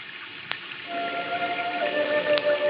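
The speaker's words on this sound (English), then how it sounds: "And it started to rain again, to rain hard." Heavy rain falls in a steady, dense hiss with a faint tonal hum running underneath, close and continuous.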